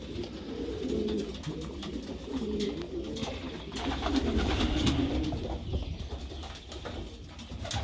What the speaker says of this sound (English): that's a lot of birds right there